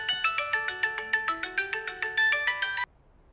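A mobile phone ringtone plays alone, a bright, rapid electronic melody of about fifteen evenly spaced notes that stops abruptly, leaving near silence.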